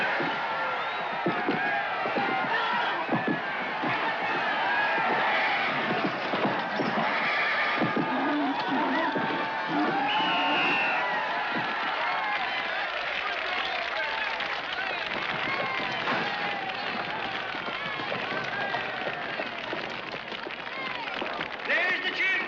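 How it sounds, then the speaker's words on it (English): Crowd at a rodeo, heard as a steady roar of cheering and shouting that runs the whole time, with horse whinnies and hoof clatter rising through it. "There's the cheer, folks."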